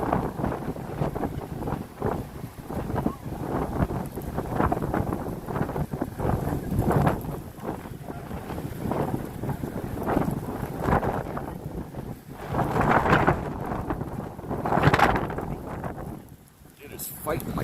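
Strong storm wind gusts roaring and buffeting a handheld camera outdoors in Hamilton during heavy winds, a loud continuous rush that swells near the end, with a person speaking over it.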